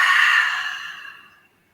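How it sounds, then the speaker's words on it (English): A deep breath drawn and released for a metabolism-boosting meditation exercise, an airy, close exhale that starts strong and steadily fades out to silence over about a second and a half. "Nice deep breath in and out."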